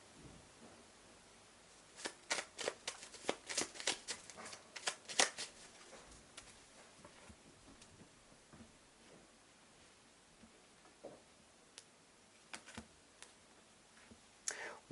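An oracle card deck being shuffled and cut, giving a quick burst of crisp flicking and riffling snaps, then scattered soft ticks as the cards settle. The sound is faint and close, with no talking.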